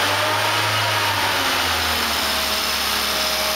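A Volvo car engine, treated with Seafoam, runs with a loud droning revving note that settles and drops in pitch, under a heavy steady hiss, with no talking.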